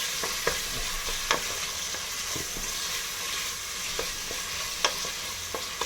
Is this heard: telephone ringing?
no